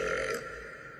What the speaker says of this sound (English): It's how I feel when I burp really loud in an underground parking structure